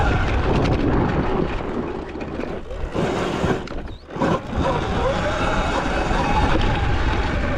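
Sur-Ron electric dirt bike fitted with a Torp TC500 controller riding hard, a loud continuous whine and wind-blown drive noise throughout with a brief dip midway, and the rider talking over it.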